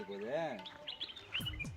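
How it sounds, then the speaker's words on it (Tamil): Small sparrows chirp and flit about near an old graveyard in Ooty, giving quick, high, close tweets mixed with a person talking. "குருவிங்க பாருங்க என்ன அழகாக விளாடுறாங்க"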